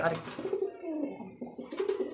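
A pigeon coos close by in low, throaty rolling phrases, repeated a couple of times.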